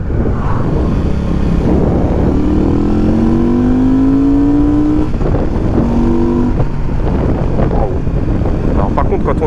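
A Benda Chinchilla 500 motorcycle accelerating hard, engine tone climbing steadily through the gears with a brief dip between pulls, loud and continuous under buffeting wind noise.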